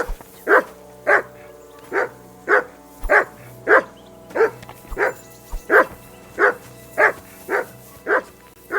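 A dog barks in the video game Kingdom Come: Deliverance II, giving a steady run of about fourteen loud, evenly spaced barks close by, with no voices over them.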